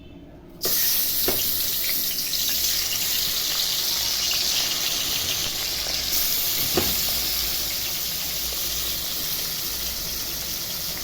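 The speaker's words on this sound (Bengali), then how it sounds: "মাছটা ভেজে নিব, পাতলা করে ঝোল করব। মাছটা আগে ভেজে নিই।" Bata fish pieces fry in hot oil with a loud, constant sizzling hiss that starts abruptly and holds steady, broken by a couple of faint clicks and taps nearby.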